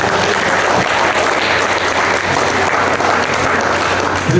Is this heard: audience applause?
yes